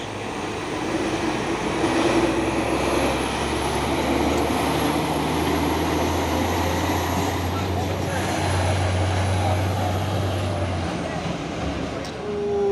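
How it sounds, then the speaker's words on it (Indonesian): A Hino trailer truck hauling a container rumbles past on the road, a loud, steady low engine drone with a faint high whine above it, holding level throughout. "Trailer Hino ini membawa kontainer."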